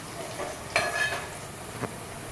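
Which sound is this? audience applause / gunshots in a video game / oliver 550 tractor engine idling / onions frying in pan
onions frying in pan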